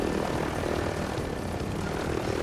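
Helicopter rotor and engine drone in the Call of Duty Rebirth Island battle royale, a steady, continuous whir holding at an even level for the whole stretch with no voices over it.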